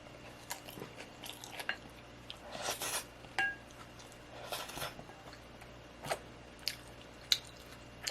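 Someone eating a mixed rice bowl on a rainy day, with soft close chewing, squishy bites and an occasional utensil clink against a dish over a low background hum.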